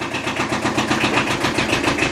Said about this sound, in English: Now it's idling.